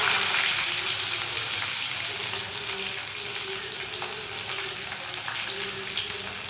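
Dried red chillies frying with onions in hot oil for sambar, a steady close sizzle and crackle that runs throughout with no talk.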